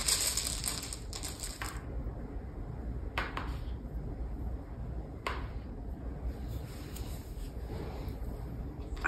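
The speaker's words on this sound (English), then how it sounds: "Shuffling them up." Soft clattering and rustling of small pieces being mixed by hand, with a few sharper clicks standing out from a steady shuffling texture, no voices.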